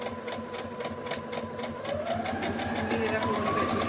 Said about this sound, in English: So now I'm just sewing straight down.